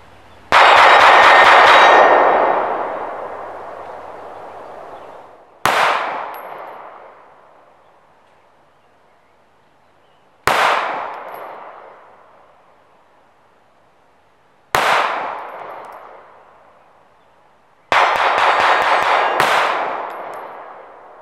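Sig Sauer P365 pistol firing ball rounds at targets outdoors: loud sharp shots, a rapid burst at the start, then three single reports spaced several seconds apart with ringing decay, and a final quick string of shots.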